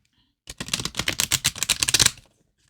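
A deck of oracle cards is riffle shuffled up close in a quiet room, giving a quick, rapid flutter of cards lasting under two seconds, followed by a short softer settle at the end.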